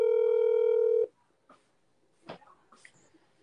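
A telephone line gives a steady tone for about a second that cuts off abruptly, followed by a few faint, scattered clicks and short bursts of sound in near silence.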